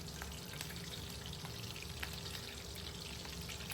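Slit chilies frying in oil for chicken kabab, a steady close crackling sizzle with scattered pops and no voices.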